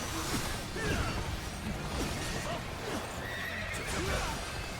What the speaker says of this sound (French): Les chevaux, les chevaux.